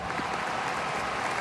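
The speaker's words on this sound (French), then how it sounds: "Seuls les applaudissements résonnent à la fin de chaque point" Steady crowd applause in the TopSpin 2K25 tennis video game on PS5, a dense even wash of clapping at moderate volume with no voices, heard at the end of a point.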